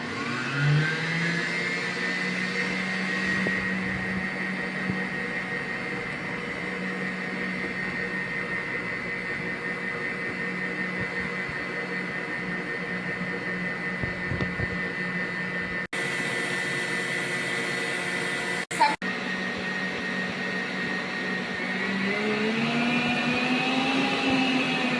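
An electric mixer whirs steadily, beating egg yolks, water and sugar for a simple sponge cake batter, a continuous close motor drone with brief dips in the middle and a slight pitch rise near the end.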